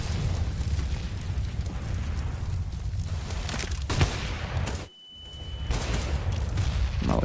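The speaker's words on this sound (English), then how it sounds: "Mollies land and then burn themselves out." Molotov fire in Counter-Strike at a DreamHack Masters match, dense crackling bursts and a loud whoosh of flames, briefly cutting out before the burning roar returns.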